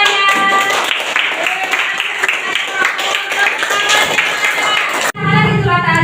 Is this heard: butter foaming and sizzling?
no